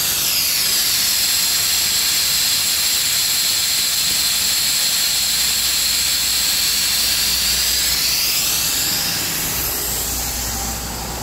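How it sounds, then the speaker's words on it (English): Steady hiss from a small air leak around a gauge on a Tsugami SS20 lathe, a loud continuous rush with a faint whine that fades a little near the end, no voices. "sometimes you have little small air leaks, like I have one around that gauge right there"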